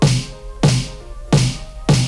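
A deep electronic kick drum sample hits four times in a steady rhythm, each thump booming low and decaying quickly.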